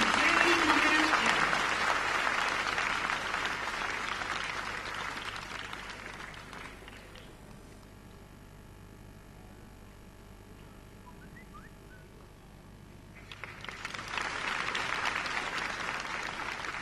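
An audience at a government launch event in Ahmedabad claps loudly for several seconds, fades to near quiet in the middle, then bursts into a fresh round of applause toward the end.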